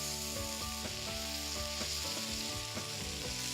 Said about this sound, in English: And then we'll turn it once more and sear the other side.